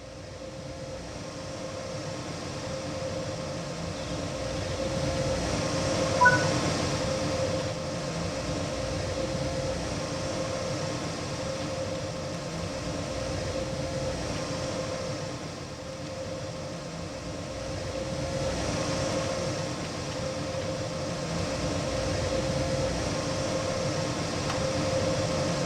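A BR185.2 electric locomotive in Train Sim World 3 gives off a steady, moderate electric hum and whine from the cab, with a single faint click partway through and no voices.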